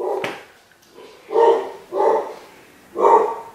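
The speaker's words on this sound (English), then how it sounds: "Out of all times to choose to bark. She wants to bark right now." A female dog barks indoors, one sharp yip followed by three fuller, evenly spaced barks, loud and close against a quiet background.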